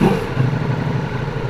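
A Ducati Multistrada V4S motorcycle engine rumbles steadily nearby, its low throbbing exhaust note holding fairly even with slight revving swells.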